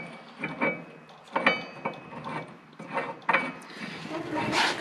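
Ratchet wrench tightening new unwashered winch bolts on a John Deere 700H dozer, heard as repeated short bursts of clicking strokes, fairly close and moderately loud with no talking.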